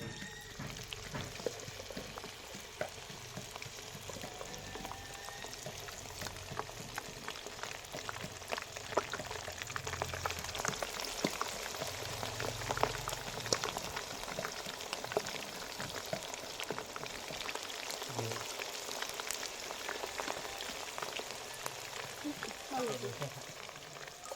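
Fish sizzles in hot oil, a steady dense crackle and spatter of frying that runs the whole time at an even level, with occasional faint clinks from the pan.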